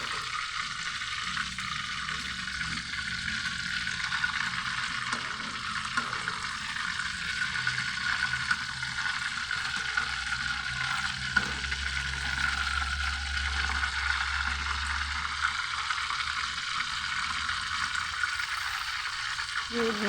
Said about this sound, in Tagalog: Ang hirap magprito mga kaibigan.